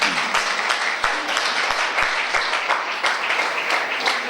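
A church congregation claps and cheers together in a sustained, dense round of applause, loud and close, with a few sharper hand claps standing out against the steady wash.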